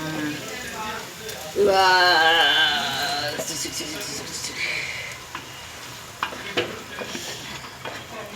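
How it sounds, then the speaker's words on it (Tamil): Ground masala paste is poured into a hot frying pan with oil, bursting into a loud sizzle that settles into stirring and crackling while people talk over it. "இப்போ வந்துட்டு நம்ம அரைச்சி வச்சத மசாலாவை ஊற்றிடலாம்."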